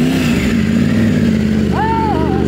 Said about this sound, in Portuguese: Anda na moto e depois você me fala.